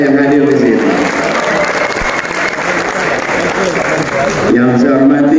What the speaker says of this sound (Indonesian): Boleh kita beri tepuk tangan untuk semua kita yang hadir di sini.